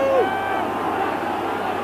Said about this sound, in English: the crowd really getting behind the Munstermen